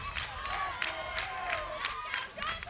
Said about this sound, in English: the crowd's starting to fire up their intensity as well